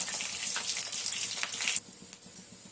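Bottle gourd 65 pieces frying in hot oil in a pan, a steady close sizzle that cuts off abruptly partway, leaving faint crackles.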